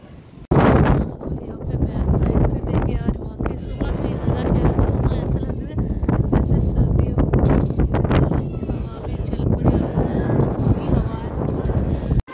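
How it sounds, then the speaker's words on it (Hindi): Strong wind roars continuously against the microphone, a loud buffeting rush with gusty bursts, while a voice speaks faintly underneath. "इतनी तेज़ हवा चल रही थी"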